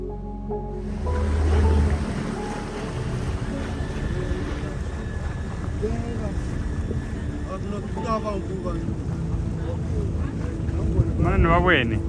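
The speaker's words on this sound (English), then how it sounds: "Everyone else now in the boat." A motorboat carries passengers along the winding Chobe River past a village, its engine droning steadily under strong wind buffeting and splashing water, with people talking over the noise.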